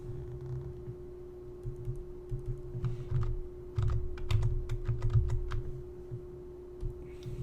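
Typing on a computer keyboard while entering values for a table, with scattered soft key clicks and a couple of quicker bursts over a steady low electrical hum, close and quiet, no talking.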